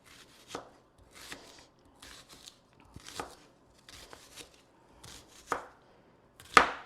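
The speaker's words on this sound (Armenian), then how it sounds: "խորովածի սոխը ոնց է կտրատում" A knife chops onion on a cutting board while making harissa. Irregular crisp thuds land every half second or so, close and fairly quiet, with the final stroke loudest, and no one speaks.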